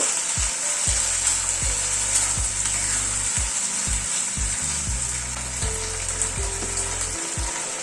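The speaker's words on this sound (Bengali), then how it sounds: "সব সসগুলো দিয়ে একটুখানি নাড়াচাড়া করে নেব" Vegetables in sauces sizzle steadily in a frying pan for a curry-style sabji, with a run of close spatula scrapes and knocks against the pan over the constant hiss.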